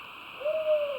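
Owl in the Bongamsa temple forest gives a single drawn-out hoot, fairly clear and near against a steady background hiss.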